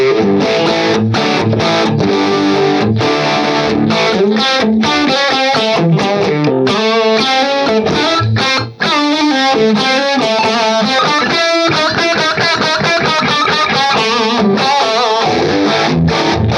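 An electric guitar plays through a vintage Orange distortion pedal, thick overdriven chords and riffs running continuously and loud while the controls are swept, with one brief drop near the middle.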